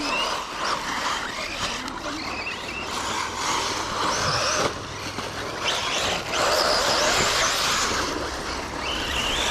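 A Kyosho Inferno Neo brushless 1/8 scale off-road RC buggy runs on an eco setup, its high electric whine rising and falling continuously over gravelly tyre noise, fairly close and loud throughout with no talking.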